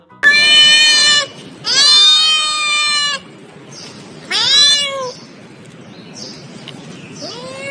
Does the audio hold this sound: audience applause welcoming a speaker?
no